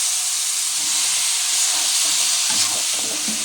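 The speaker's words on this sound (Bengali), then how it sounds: "এখন সবজিটা দিয়ে আরও ভেজে নেব।" Spice paste with sugar, salt and ginger paste frying in oil as vegetables go in for a katla fish curry, a steady loud steamy hiss with a few soft stirring knocks near the end.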